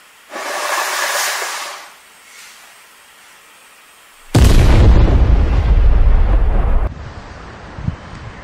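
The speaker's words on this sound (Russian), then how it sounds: "Что-то взрывается." Distant blast from an oil terminal at the port of Feodosia: a sudden loud, low rumbling boom that holds for a couple of seconds and then cuts away, with earlier wind noise and no talk.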